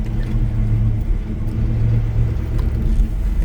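Steady low engine rumble of a 1984 Chevy C10 pickup heard from inside the cab while driving, a continuous droning hum with no talking.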